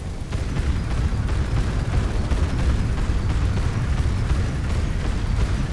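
Spaceship weapons fire in Moon Breakers, a dense, continuous barrage of low booming blasts that roars steadily and loudly from start to end with no voice over it.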